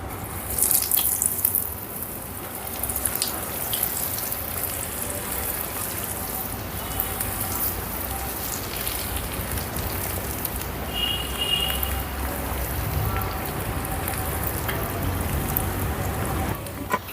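Pakoda batter mixed with onion, green chilli and mint sizzles steadily in hot oil at a roadside snack stall, a continuous bubbling hiss throughout with no talk.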